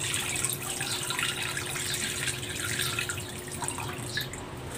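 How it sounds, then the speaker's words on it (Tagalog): Water running steadily into a pan of pork ribs in a home kitchen, a continuous close splashing pour with a faint steady hum underneath and no talking. "Lagyan natin ng tubig."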